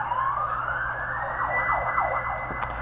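A wailing emergency siren rising then warbling rapidly, heard at a distance outdoors over a constant low rumble of background noise.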